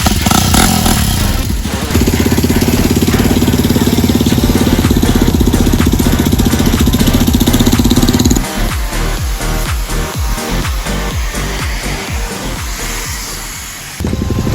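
Motorcycles ride in Delhi with a loud, steady engine drone that holds for several seconds, then breaks into rhythmic throttle pulses and shifting revs.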